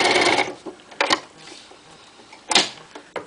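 A Toyota FSG325 industrial sewing machine stitches with #69 upholstery thread in short, loud mechanical bursts separated by quieter pauses and light handling noise, close up.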